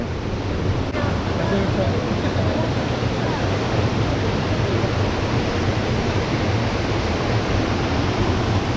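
Diyaluma waterfall in Sri Lanka roars as a steady, dense broadband wash of falling water, constant and loud throughout with no pauses, heard from nearby on a rocky viewpoint.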